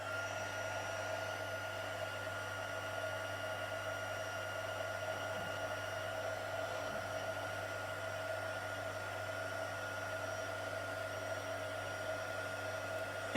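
A heat tool blows continuously while melting white embossing powder, a soft, steady, even fan-like whir with a constant hum that runs without break for the whole stretch.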